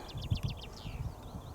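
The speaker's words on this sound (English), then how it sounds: "And birds are singing." Small birds chirp in quick repeated bursts among the Central Fells of the Lake District, faint against a soft outdoor background.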